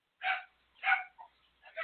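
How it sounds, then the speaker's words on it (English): Dogs bark at a knock on the door indoors, three sharp, fairly loud barks in quick succession with short gaps, ending on a softer yip. "And there go my dogs because someone knocked at the door."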